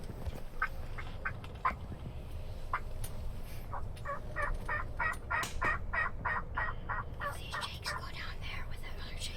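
Wild turkeys gobble faintly in a field, a distant flock of jakes and hens giving repeated rapid bursts of calls over low outdoor rumble.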